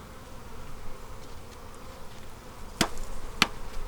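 Honey bees hum in a steady, close drone during an open hive inspection, with two sharp knocks or clicks near the end.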